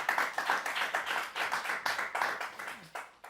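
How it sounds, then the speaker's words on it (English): Audience at a school event applauding guests, a moderate crowd of hands clapping in uneven, pulsing bursts, close and lively, fading slightly toward the end. "So give them a round of applause"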